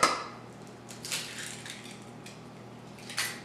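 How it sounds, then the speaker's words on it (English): Eggs cracked against a mixing bowl for pumpkin protein bars, with vanilla extract already added; a sharp tap at the start, then a couple of brief clinks and taps over faint room hum, no talking. "And I'm gonna put 2 eggs in here."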